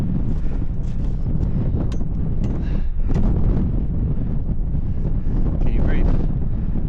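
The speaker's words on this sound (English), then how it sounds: "It's because we're in the wind." Strong gusting wind batters the microphone on a high mountain summit ridge of a 4,000 m alpine peak, a loud continuous rumbling roar with brief faint voices underneath.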